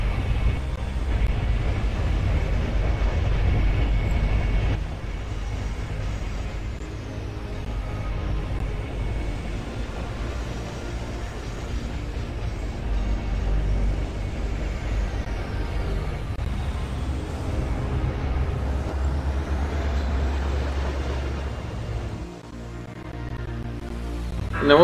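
Coal trains run in Chris Sawyer's Locomotion, a steady loud rumbling drone of rolling rail traffic that holds throughout, dips briefly near the end and then swells back.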